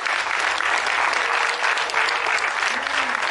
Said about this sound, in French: on va les applaudir quand même pour les encourager